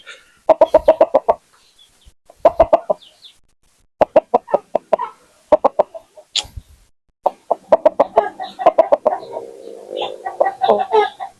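Chickens cluck in quick rhythmic bursts, several short runs of clucks separated by pauses, fairly close and loud, with a busier stretch of clucking toward the end.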